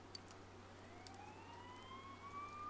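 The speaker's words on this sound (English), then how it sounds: "You hear sirens nearby." Police sirens in the video game Persona 4 Golden, a faint rising wail sweeping upward slowly over a low steady hum, distant and quiet with no speech.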